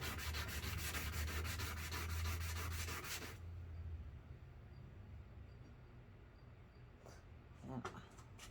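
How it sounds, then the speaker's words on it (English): Hand sanding of a gun barrel, sandpaper wrapped around a wooden block: steady rapid rasping strokes for about three seconds, then a quieter background with a few faint scrapes near the end. "You just want to use a hard, like a block of wood around your sandpaper in order to keep it flat against the surface there."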